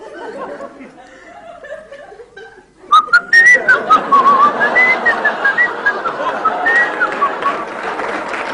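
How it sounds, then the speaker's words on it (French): A person whistles a wandering tune while brushing teeth, the whistling loud and close after a quieter opening of muffled sounds, with brief laugh-like breaths mixed in. "Je me lave les dents en sifflotant."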